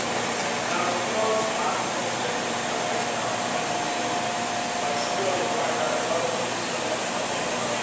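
A milling machine spindle runs as a steady, loud broadband whir with a high whine on top, cutting a little material from a workpiece; the noise holds continuously with no clear breaks.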